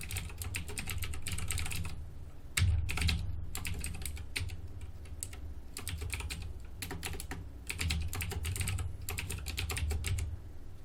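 Fast bursts of keystrokes on a computer keyboard, close and clear, with brief pauses between runs of typing and no speech.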